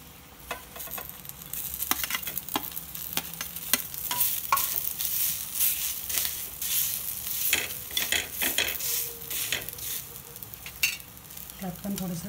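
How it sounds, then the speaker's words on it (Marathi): Onion roasts in a pan for a Maharashtrian drumstick-pod curry, giving a steady close sizzle broken by frequent scraping clicks of a stirring spoon. "आपण आता कांदा टाकू भाजायला"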